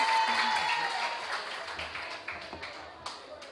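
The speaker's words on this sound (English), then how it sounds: "So now have to clap her again, please." An audience at a public service expo applauds a welcomed guest, a dense burst of clapping that starts loud and gradually thins into scattered claps.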